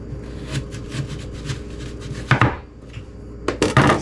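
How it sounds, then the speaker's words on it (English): A knife chops food on a cutting board while fajitas are prepared, a series of close, irregular taps and cuts, with a few sharper, louder strokes toward the end. "So we are going to cut here."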